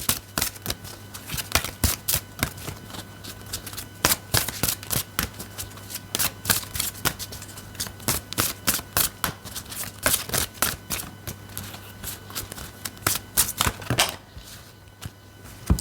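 Oracle cards with animal designs are shuffled by hand in rapid bursts of crisp riffling and slapping, steady and close for most of the stretch, with a brief pause near the end and no talk.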